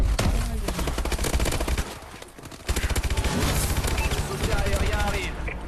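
Rapid bursts of energy-weapon fire in Call of Duty Advanced Warfare co-op play, dense crackling volleys running nearly the whole time, loud and close, with a brief lull midway and players talking over it.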